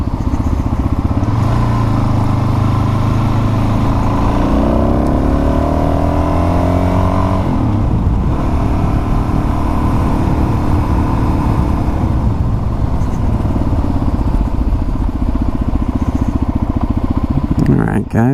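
Suzuki DRZ 400 SM motorcycle engine running steadily while riding, a loud close drone with a rising rev sweep midway, continuing as a constant rumble to the end alongside wind noise.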